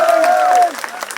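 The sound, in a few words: audience applause at political speech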